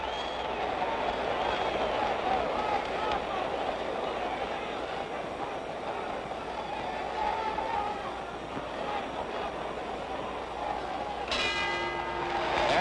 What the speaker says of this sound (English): The bell ending round 11.